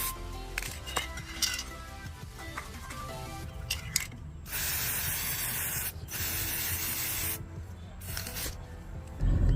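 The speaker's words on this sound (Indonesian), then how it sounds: "Nah, supaya lebih menarik ini bisa kita cat terlebih dahulu." Paint hisses from a spray can in long bursts with short pauses between them, and soft clinks and rubbing sounds come before the spraying starts, all close by.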